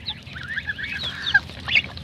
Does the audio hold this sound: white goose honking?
yes